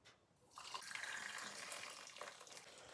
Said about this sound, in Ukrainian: Кава зварена. Наливаю собі до торта.